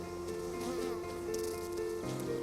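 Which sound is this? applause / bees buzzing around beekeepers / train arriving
bees buzzing around beekeepers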